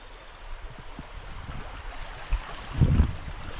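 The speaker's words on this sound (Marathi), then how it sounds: "पावसातून येणारं पाणी" Rainwater runs in a stream through a Konkan forest during the monsoon, a steady broad rushing close by with a few louder low bumps near the end.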